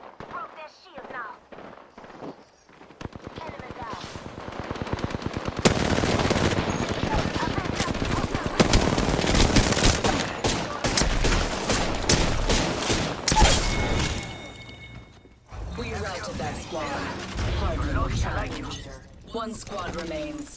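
Heavy video game gunfire: dense machine-gun bursts and volleys that build into a loud, sustained barrage, then break off. Mechanical clatter and short voice lines sound between and over the shooting.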